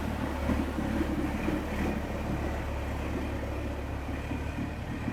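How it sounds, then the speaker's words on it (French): A small boat passes in Bangkok: a steady low motor drone hums on with wind buffeting in the background, no voices, its small engine running nearby. "il y a un petit bateau qui passe juste derrière"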